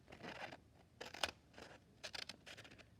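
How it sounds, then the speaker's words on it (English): Quiet snipping and rustling of paper being cut with scissors for origami, with a few short bursts of scissor blades closing, close by and fairly soft. "I'm also not very good at cutting with scissors"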